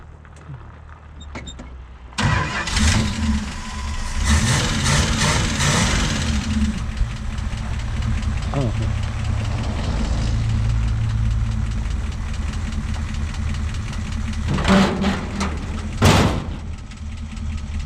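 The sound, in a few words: old car engine starting and idling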